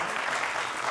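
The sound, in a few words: TV studio audience applause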